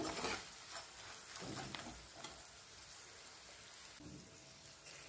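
Spices frying in oil for a lemon rava pulihora tempering give a faint, steady sizzle with scattered soft pops and stirring clicks, heard close and quiet.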